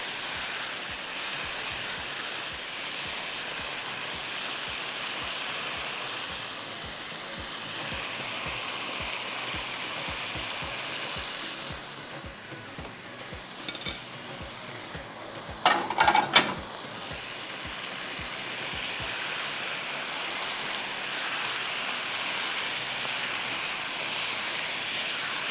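Chicken being roasted (bhuna) and stirred in oil in a pan, giving a soft, continuous sizzling hiss with faint rhythmic scraping, a brief clatter of utensil knocks in the middle.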